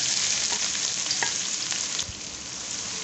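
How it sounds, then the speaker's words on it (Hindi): Three sliced medium onions fry in oil with browned fenugreek seeds for a cluster bean (gawar phali) curry, producing a constant bright sizzle with occasional stirring taps, moderately loud and without speech. "इसे मैं गोल्डन होने तक फ्राई करूँगी।"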